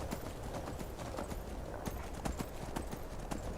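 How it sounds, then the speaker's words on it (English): A horse in the video game Skyrim gallops, with rapid, rhythmic hoof clip-clops close by over a low ambient rumble. "As soon as you see him start galloping"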